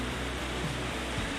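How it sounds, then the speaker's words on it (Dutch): Heavy tropical rain shower pouring down steadily in Indonesia, a dense, even wash of noise with no gaps, loud and close, with no talking. "Nu regent het dus."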